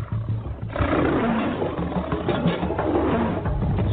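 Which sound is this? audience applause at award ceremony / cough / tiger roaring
tiger roaring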